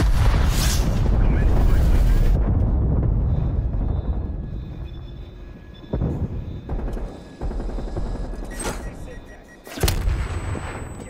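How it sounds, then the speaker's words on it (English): Cruise missile strike in a Call of Duty Black Ops Cold War multiplayer match: a heavy, rumbling blast with a long decay, followed by several sharper booms and gunfire-like bursts. Faint voice and game effects sit underneath. "enemy cruise missile launch detected"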